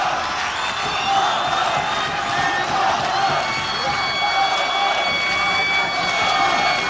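Boxing arena crowd with Swedish fans cheers continuously, a dense steady roar with scattered whistles and shouts.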